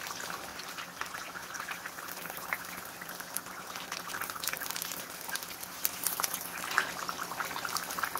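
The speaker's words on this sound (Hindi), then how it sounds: "ये बहुत ही जल्दी फ्राई हो जाते हैं और बहुत ही मज़ेदार बनते हैं।" Chicken cheese kebabs shallow-frying in hot oil give a steady, close bubbling crackle with scattered sharper pops throughout.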